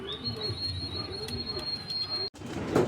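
A blue bar racing pigeon coos in a low, repeated throaty pattern under a steady high electronic whine, with a sharp break and a brief bit of background rustle near the end.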